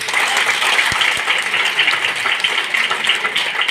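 A large audience at a seminar claps loudly and continuously in a dense, sustained burst of applause with no speech over it.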